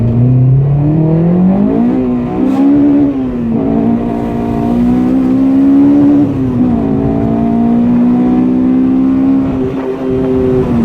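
A Honda DC5 sports car engine with individual throttle bodies revs loudly and close by, its pitch climbing and dropping in repeated pulls, steady throughout with no voices.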